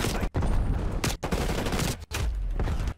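Loud, rapid gunfire from Call of Duty: Black Ops Cold War during a hardpoint multiplayer match, dense bursts running almost continuously with a few brief pauses.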